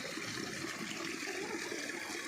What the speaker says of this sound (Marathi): बघा टपकते पाणी.